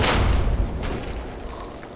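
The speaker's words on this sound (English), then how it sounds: "Well, thanks for making it easy to just throw grenades at you." A grenade explodes in Fallout 3 with a loud, close boom. Its rumbling tail fades over about two seconds.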